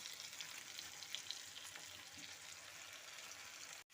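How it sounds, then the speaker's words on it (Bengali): Vegetables including potato, pumpkin, eggplant and squash fry in oil, giving a soft, continuous, even sizzle with faint crackles that stops abruptly just before the end. "সবজি দিয়ে তেলের সাথে একটু ভালো মতো ভাজা ভাজা করে নেব"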